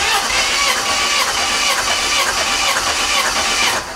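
A Jeep 2.5L engine cranks on the starter during a compression test, giving a steady, fairly loud whirring drone with faint repeating pulses that runs through the whole stretch without any voices.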